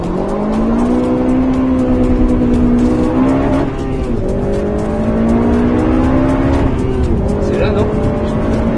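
Rally car in the Rallye Monte-Carlo 2011 taking a hairpin with the handbrake, engine droning and revving close by with tyre squeal, while people talk inside the car.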